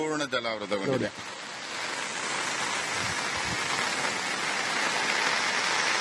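Steady monsoon rain pours down in Kodagu, Karnataka, a broad continuous hiss that holds unbroken after a brief burst of voices at the start.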